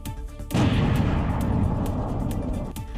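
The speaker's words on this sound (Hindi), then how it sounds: "दूसरी तरफ एक जोरदार धमाका, जिसके बाद सब कुछ मलबे में तब्दील हो गया" A loud, sudden blast from a war strike in the Israel–Iran conflict, opening with a sharp boom followed by a sustained roaring rumble that carries to the end, with no voices.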